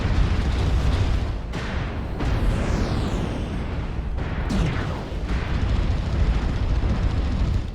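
Missile explosions in a combat video game: several loud, rumbling booms with sharp bursts and sweeping whooshes, heavy low rumble sustained throughout, with little speech.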